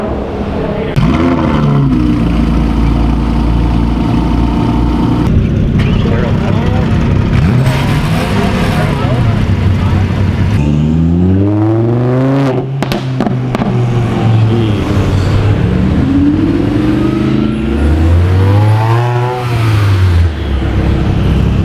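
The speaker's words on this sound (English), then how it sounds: "So here's Eli from Ignition Tube driving Dr. M3's Huracan Performante." A Lamborghini Huracan Performante engine revs hard and loud up close, with repeated rising and falling sweeps through gear changes and throttle blips, plus a brief voice at points.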